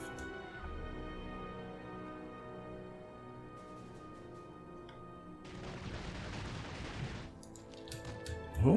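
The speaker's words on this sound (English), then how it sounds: "Nobody should be shooting already." Distant musket volleys crackle in Napoleon: Total War during a battle around occupied buildings, a dense burst of gunfire rising mid-way and trailing off, with a sharp louder crack at the end over steady battlefield ambience.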